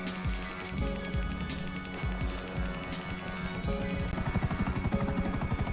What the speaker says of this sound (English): Use the helicopter now.